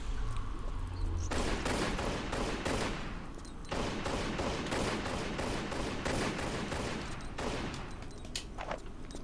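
Pistols fire at bats in a Tomb Raider level editor game, shots crackling in rapid bursts with short pauses between volleys, sounding loud and close.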